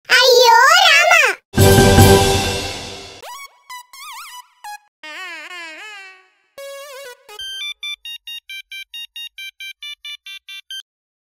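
Phone ringtone of an incoming call in a comedy episode: a loud musical melody of gliding and stepped electronic tones, ending in a rapid string of short repeated beeps.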